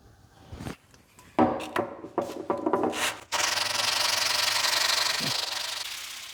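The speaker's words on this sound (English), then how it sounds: "after a ton of sanding on the 120" Sandpaper rubs against an old metal hand plane in short scraping strokes, then shifts into a long, steady, gritty 120-grit sanding that continues to the end.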